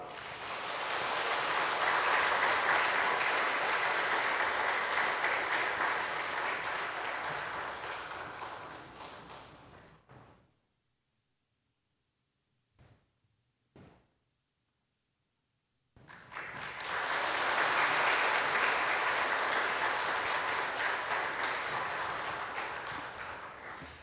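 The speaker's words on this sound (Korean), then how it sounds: "여러분 받으실 때 여러분 힘찬 격려 박수 해주시기 바랍니다." Sustained applause from a church congregation during a Sunday service, greeting members honored for hand-copying the entire Bible, comes in two long steady bursts separated by a few seconds of near silence with faint taps.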